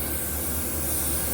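Spray adhesive hisses from a can onto car insulation for a classic Mustang kick panel, a steady close-up broadband spray lasting the whole moment.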